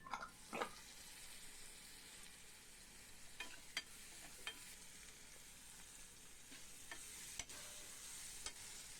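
Onions with salt sautéing in a pan for a brinjal fry, a steady soft sizzle with occasional scrapes and clicks of a stirring spoon, moderately faint and without talk.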